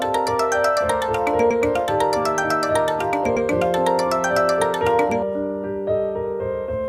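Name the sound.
phone ringtone, incoming call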